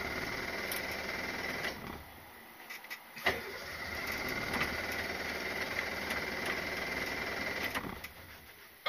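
A Subaru 360 with its small engine running just after a cold start, a steady, buzzy idle that falters and dips briefly before picking back up.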